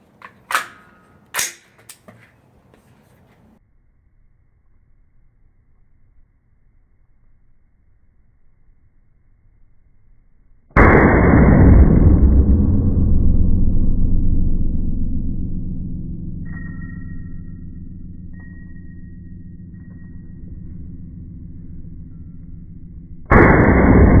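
Rifle fired with a Battle Comp compensator: a few sharp cracks at the start, then after a quiet gap one loud, sustained blast of broadband noise holding for several seconds before a final abrupt burst, no voices.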